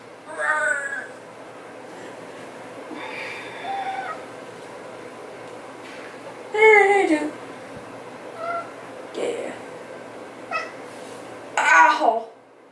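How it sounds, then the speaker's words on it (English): A large cat meows repeatedly outdoors, several drawn-out cries spread across the stretch, fairly close over a steady background hiss, with no talking between them. "Oh, big cat."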